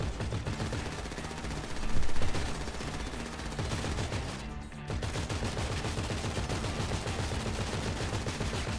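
Gunfire in GTA 5, a dense, loud stream of rapid automatic shots continuing almost without pause, with one brief gap midway, alone without talk.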